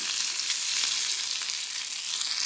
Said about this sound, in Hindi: और इसमें दो मीडियम साइज के ये आलू काट कर डाल देंगे थोड़े बड़े टुकड़ों में और इसे हम अच्छे से फ्राई कर लेंगे